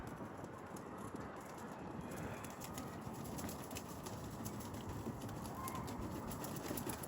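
Mardin pigeons kept in a loft coo softly amid faint wing flutters, the calls distant and low under a steady rain-like background hiss.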